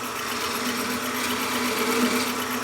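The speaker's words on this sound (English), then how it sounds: "I'm using a flat chisel because I find that this tool here is not very aggressive" A flat chisel cuts steadily into spinning wood on a Shopsmith lathe while a mushroom is turned, making a continuous, fairly loud whirring and scraping drone that stays even for the whole stretch with no talk.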